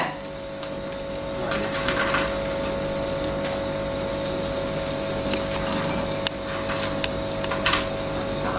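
Rice-cracker batter deep-frying in hot oil gives a steady, dense sizzling hiss with scattered small pops and crackles, loud and close throughout, with no talking.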